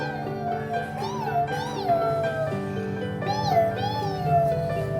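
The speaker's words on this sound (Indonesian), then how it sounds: "Kucingnya lucu ya." A kitten that fell from a roof tile meows repeatedly, several rising and falling cries close by and fairly loud, with no talk over them.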